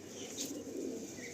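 A Malwai pigeon at a pigeon seller's in Howrah gives soft, low cooing. The calls roll on steadily at close range with no talking.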